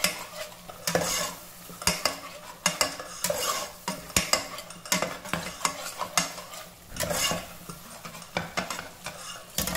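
Grated khoya roasting with spices in a kadai: soft sizzling under repeated scraping stirs of a spoon against the pan, steady and close, with no voices.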